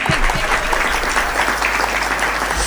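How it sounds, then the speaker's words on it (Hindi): A poetry recital audience gives loud, dense applause that carries on evenly throughout, with a few sharper claps near the start and no one speaking over it. "आपकी तालियां कमजोर हैं"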